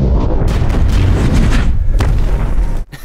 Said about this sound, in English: Even Tony Stark isn't immune to a missile blast.